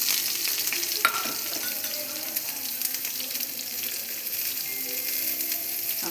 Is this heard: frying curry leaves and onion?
yes